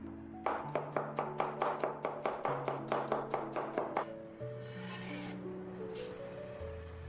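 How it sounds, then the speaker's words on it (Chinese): A kitchen knife chops peeled, smashed garlic cloves into fine mince: about a dozen quick, evenly spaced thuds on a board, then softer scraping and rubbing, with no talking. "幾粒去皮的大蒜，用刀拍一下，然後再剁成稍微細一點的蒜末。"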